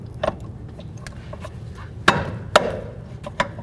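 A rear brake caliper on a 2008-13 Mazda 3 S is worked into place, sounding as a few sharp metallic clacks and knocks spaced irregularly over a low background hum, close and without speech.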